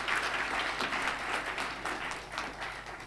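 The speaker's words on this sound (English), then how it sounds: "Round of applause." Steady applause from a crowd at a magistrates' and judges' association anniversary event, a dense patter of many hands clapping at moderate distance, continuing throughout.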